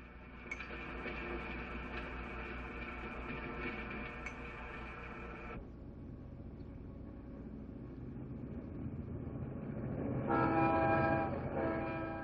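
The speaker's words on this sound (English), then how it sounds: "There's more than just a hint of speed as the Denver Zephyr rounds a sweeping curve west of Aurora in pursuit of the setting sun." Denver Zephyr diesel passenger train speeding past on a sweeping curve west of Aurora, a loud steady rumble with a sustained horn tone that drops away midway, then the roar swells again with another bright horn blast near the end.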